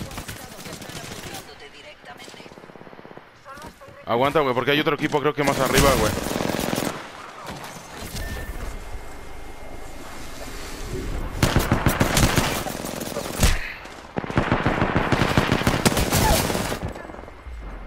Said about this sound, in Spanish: te están disparando de allá